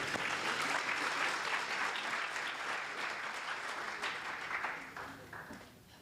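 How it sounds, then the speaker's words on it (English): Applause rises from the audience at a launch event: sustained, fairly loud clapping from many hands that holds for several seconds and then thins and fades toward the end. "Let's give her a big hand of applause."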